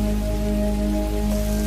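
Steady rain falls on a night scene in an animated Bengali village horror cartoon, a constant even patter with a sustained tonal hum beneath it.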